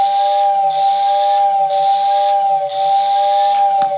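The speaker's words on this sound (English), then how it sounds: "you see that motor really has to spin to drive enough air to get through that whistle" A motor-driven steam whistle in a Lionel whistle tender, rewired to AC and run from a switch controller, blows a steady, shrill two-tone toot. It stops and restarts in short repeated blasts, with the electric motor humming and whirring underneath.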